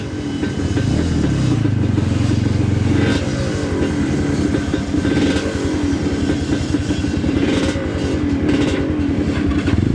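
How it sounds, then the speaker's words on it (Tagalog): A Kayo 300 motorcycle engine revs hard and continuously at close range, a loud droning roar with rising and falling pitch and a steady mechanical clatter underneath throughout. "Neutral mo, tapos full rev."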